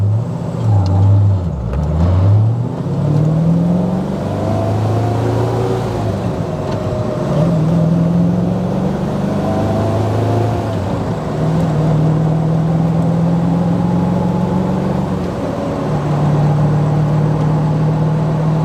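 A 1999 Shelby Series One with a supercharged 5.3 liter Oldsmobile engine accelerates through the gears from inside the car, the engine note rising repeatedly with dips at each shift, loud and continuous with no talk.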